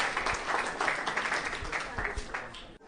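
A crowd cheering and applauding at an election result count in Brighton, a dense steady wash of clapping with voices mixed in that cuts off abruptly at the end.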